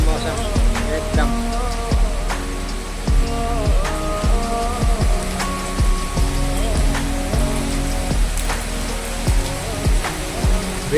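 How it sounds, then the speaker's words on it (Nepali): Rain falling after many dry days in cool weather, a steady close patter with repeated sharp drops striking a surface at an uneven rhythm, loud and continuous with no voices. "धेरै दिनपछि यो वर्षा भएको छ।"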